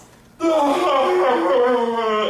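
A single long, drawn-out yawning breath with a voiced, wavering tone, starting abruptly after a moment of near silence.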